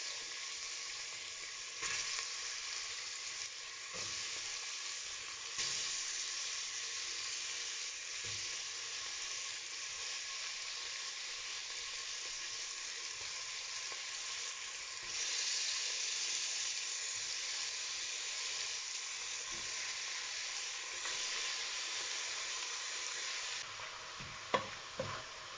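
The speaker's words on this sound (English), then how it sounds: "Make sure you give your meat a good stir to get all the curry powder on the meat." Goat meat coated in curry powder sizzles and fries in a hot pot for a Jamaican curry, a steady loud hiss broken by occasional scrapes and clicks of stirring, with no talking.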